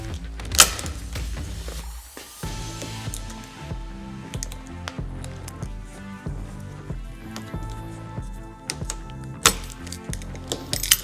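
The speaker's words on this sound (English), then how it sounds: "I'm just going to get some tin snips and snip that out." Tin snips cut through a gasket containing metallic material during a lock installation on a RAM ProMaster City van, giving a series of close, crisp metallic snips and clicks at an irregular pace.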